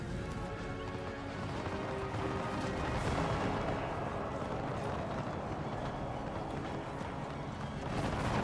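Cannon and artillery fire on a battlefield in the strategy game Empire 2 Total War, a dense continuous rumble of booms mixed with hoofbeats and horse sounds, loud and steady throughout.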